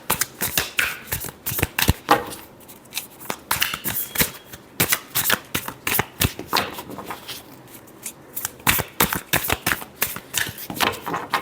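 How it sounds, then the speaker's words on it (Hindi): Tarot cards riffled and shuffled by hand in a quiet room, a dense run of crisp papery flutters and slaps in bursts across the whole stretch, close and clear with no talking. "last shuffle"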